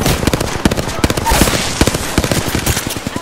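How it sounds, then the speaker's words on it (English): Rapid gunfire rattles at the player in a video game, a dense stream of loud, close automatic shots with steady rhythm that continues for several seconds without pause. "I'm spotted, taking fire."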